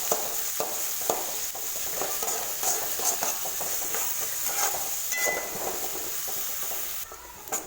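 Chopped onions fry with mustard seeds and cumin in hot oil in a pan, giving a close, steady sizzle and hiss that carries through the whole stretch, broken by occasional stirring scrapes.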